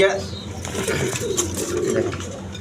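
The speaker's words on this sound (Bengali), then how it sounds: "এখানে গিরিবাস কবুতর দেখেন দুইটা দিন নিয়ে বসে রয়েছে" Giribaz pigeons sitting on a nest cooing, soft low throaty coos close by, repeated under someone talking throughout.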